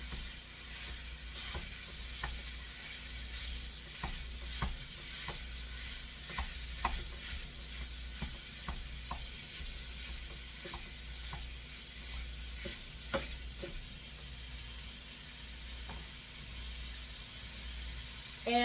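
Sausage being broken up and browned in a pan for sausage gravy, with a steady low sizzle under frequent scraping and stirring clicks from the utensil, no talk.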